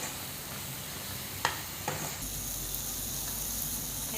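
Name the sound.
stirring spice masala frying in oil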